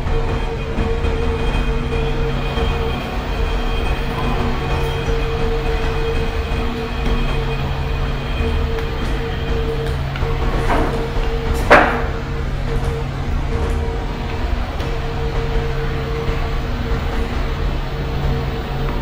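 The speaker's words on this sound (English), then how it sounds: "It's overtake our train." An express train overtakes on the adjacent line in the MSTS rail simulator, a continuous loud rolling rumble with a sharp metallic clank and brief squeal near the middle, no talking.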